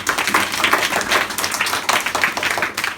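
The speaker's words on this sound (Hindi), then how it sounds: "वेरी गुड, ताली बजाओ।" A steady crowd clapping at a National Science Day event at a free education centre, dense and continuous throughout, with no voices standing out.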